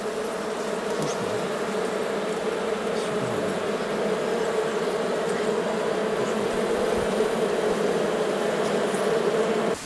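Honey bees swarming around a tree-trunk hive in an apiary in the Cévennes in June, a dense, steady buzzing hum of many insects close by, continuous and even throughout with no voices.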